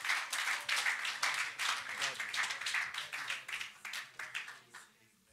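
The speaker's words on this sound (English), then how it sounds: "Let's give the Lord a hand clap of praise" A church congregation claps in praise in rhythmic bursts, fairly quiet and steady, thinning out and fading near the end.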